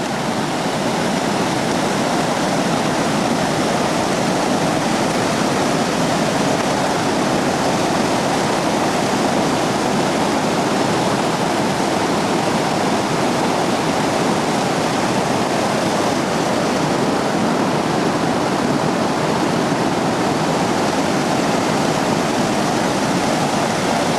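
Alpine Creek running high and fast, a loud, unbroken roar of rushing water heard close up with no letup and no voices.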